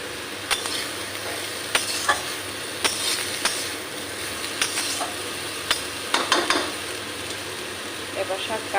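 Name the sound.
water spinach with green mango and chillies cooking in pan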